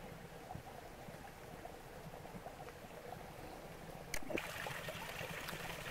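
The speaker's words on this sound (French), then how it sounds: "Regardez comme c'est beau, ce petit ruisseau qui serpente là-bas" A small stream trickling down from the hills makes a steady, soft, continuous water hiss at a distance, with a brief knock partway through.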